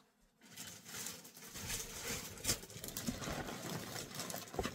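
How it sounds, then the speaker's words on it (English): Rain patters steadily outside, a faint, even hiss of drops with occasional light taps, after a brief quiet start. "It's starting to rain again."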